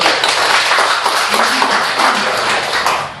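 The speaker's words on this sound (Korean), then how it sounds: "박수" At a Buddhist order's general assembly meeting, the members break into loud, close applause: a thick, continuous burst of many hands lasting about three seconds.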